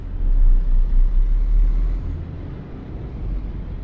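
A 1999 Busscar Vissta Buss tour bus engine in Euro Truck Simulator 2 drones loudly with a deep, steady rumble that swells early and then eases slightly as it drives, with no voices.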